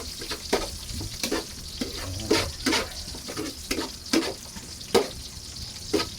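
Adobo with tomato and onion stirred in a hot pan, with a spatula scraping the metal in short, regular strokes over steady close sizzling and no talking.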